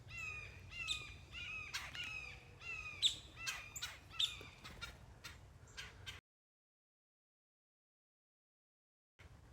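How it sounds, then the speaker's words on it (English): Many backyard birds, including a grackle, calling and chirping busily in repeated bright bursts over a low steady hum, then abruptly cut to silence. "Geez, we got birds everywhere."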